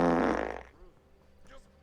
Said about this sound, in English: Yes, it is a fart.